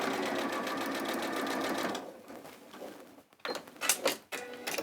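A sewing machine runs steadily for about two seconds while stitching shoulder seams on a garment, then stops. Short bursts of handling and trimming noise follow. No one speaks.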